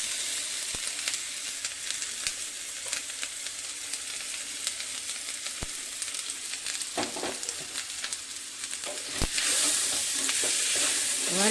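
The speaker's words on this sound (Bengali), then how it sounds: "মশলাগুলো সমস্ত ভাজা ভাজা হয়ে গেছে। এবার আমি সয়াবিনের পেস্টটা এর ওপর থেকে দিয়ে দিচ্ছি।" Soybean paste going into a pan of well-fried spices while making soybean kochuri, a steady close sizzle with clinks and scrapes of stirring throughout, growing louder near the end.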